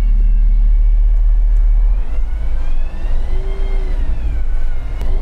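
A Ford Trucks F-Line truck pulls away on the road, its engine a steady, loud low drone, with a faint tonal whine rising and falling during the acceleration.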